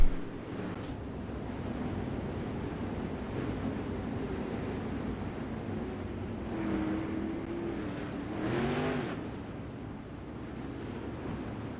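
360 sprint cars race around a dirt oval in a California Lightning Sprints event, their engines a steady, distant roar with a brief rising pass of cars near the end.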